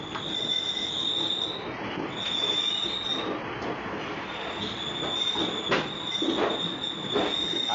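Passenger train pulling into a platform at Chennai Egmore station, a steady high-pitched wheel squeal ringing over a rumbling rolling-stock din, with faint clicks from the cars as it slows.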